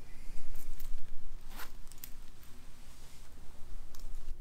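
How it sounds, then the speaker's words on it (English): A YKK zipper on a men's leather motorcycle jacket pulled in a few quick strokes up close, dry ripping buzzes with a low background rumble. "This is a YKK zipper."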